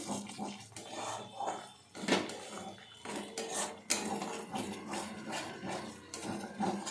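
Spice paste stirred in a cooking pan gives faint, continuous scraping and clinking of a utensil against the metal, close by with no voices.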